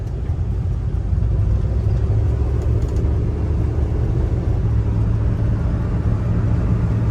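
A 1953 Mercury Monterey Wagon cruising along the road, heard as a steady, loud low engine rumble and road noise from inside the car, continuous and even with no talking.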